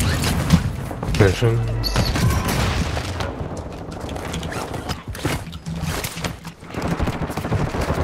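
Video game gunfire comes as bursts of rapid shots and booms from a military shooter, mixed with game sounds and loud voices talking over the action.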